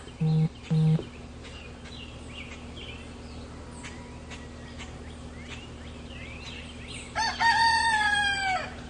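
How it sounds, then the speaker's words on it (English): Roosters crow, one loud and close near the start with two brief calls, then another long crow near the end, with distant crowing and chatter in between. "the roosters are in rare form this morning."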